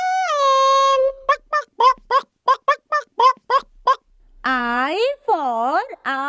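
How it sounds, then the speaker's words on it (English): A hen clucking: a drawn-out call, then a quick run of short, sharp clucks, then more stretched, wavering calls, close and fairly loud. "H for hen."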